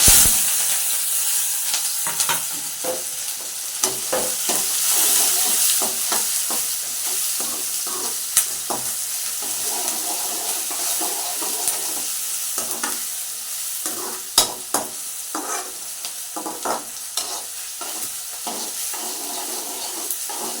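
Curry leaves and fenugreek seeds hitting hot oil in a pan for a stuffed bitter gourd and potato curry, a steady loud sizzle and crackle with sharp pops and stirring scrapes throughout, no voices.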